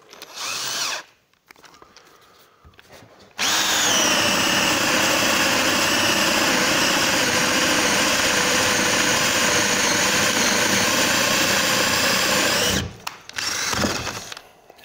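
Ryobi 18V cordless drill screwdriver running, a loud, steady high-pitched motor whine sustained for about nine seconds, with shorter bursts and quiet gaps before and after.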